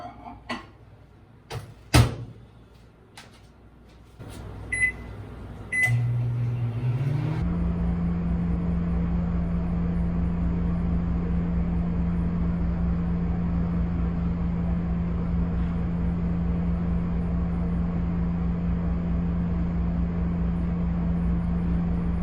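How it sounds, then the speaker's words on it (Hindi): A microwave oven runs with a steady, loud hum after a few door clicks and beeps, the drone holding evenly and unbroken for most of the stretch. "इसको मैं अब माइक्रोवेव में रखूँगी। फ़र्स्ट मैंने इसको माइक्रोवेव में रखना है 1 मिनट के लिए।"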